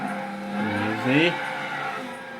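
In Gran Turismo 6, a race car spins out after the throttle is hit in the rain, its engine note rising and tires squealing briefly over a steady game-engine drone.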